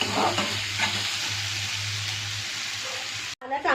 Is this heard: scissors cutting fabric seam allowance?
no